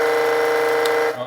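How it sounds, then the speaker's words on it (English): A steady, loud electronic horn tone from an RC truck blares continuously for about a second before cutting off abruptly, leaving a short quiet tail. "Oh, that's the horn"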